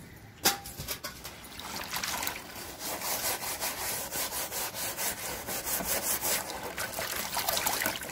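A wire brush scrubs a surface in steady back-and-forth strokes, a close, rhythmic rasping over a light trickle of water, with no talking.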